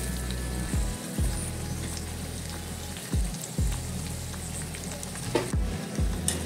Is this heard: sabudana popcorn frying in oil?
yes